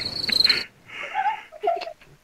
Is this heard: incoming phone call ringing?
no